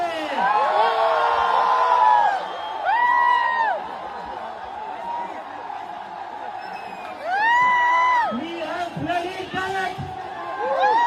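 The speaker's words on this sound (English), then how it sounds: "asking the people to cheer further loudly" A protest crowd of students shouting and cheering, loud surges of voices at the start and again near the end with a quieter stretch of chanting and calls in between.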